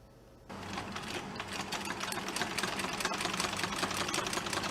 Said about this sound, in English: The whirling sound of the sewing machine means Farman from Myanmar is making her hair